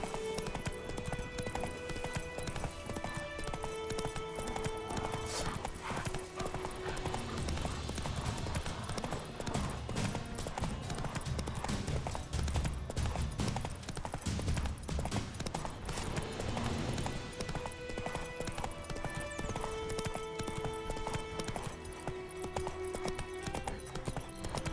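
Roach, the horse in The Witcher 3, gallops with fast, continuous hoofbeats drumming close and loud beneath dense game music and effects.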